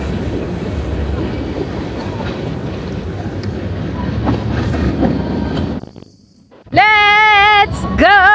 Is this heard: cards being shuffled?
no